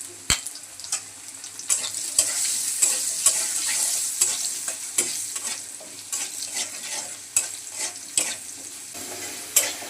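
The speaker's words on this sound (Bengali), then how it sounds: "আলুগুলো ভাজা হয়ে গেছে" Potatoes fry in oil with turmeric and salt, a soft, steady sizzle broken by repeated scraping clicks of a spatula stirring the pan.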